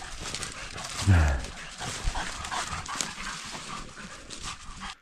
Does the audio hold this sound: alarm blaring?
no